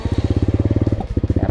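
A WMoto Porter 125 underbone motorcycle engine runs close by with a fast, even pulsing beat that briefly stumbles before picking up again.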